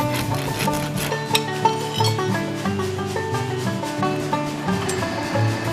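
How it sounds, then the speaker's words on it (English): A file rasps over the ragged cut ends of steel in a blacksmith shop, giving steady back-and-forth scraping strokes against a continuous tonal background. "just filing off the ragged ends of the cut so that they do not get forged into the final piece"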